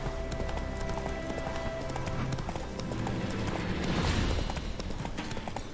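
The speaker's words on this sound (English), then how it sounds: "Just stole a random horse," Steady clip-clop of horse hooves in The Witcher 3: Wild Hunt, a continuous rhythmic trot of a ridden horse over game ambience, fairly close and even throughout with no talking.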